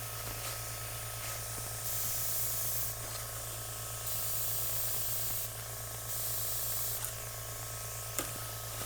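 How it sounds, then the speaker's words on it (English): An airbrush compressor runs steadily during acrylic painting of a bird, a constant low mechanical hum with a faint hiss, while bursts of spray swell and fade several times over it, with no talking. "is the sound really loud with the compressor for you guys?"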